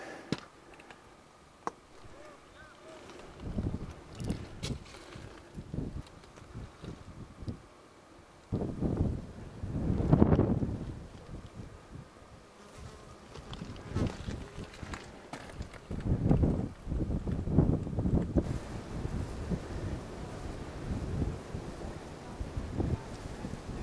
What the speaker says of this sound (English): Sheltering out of the wind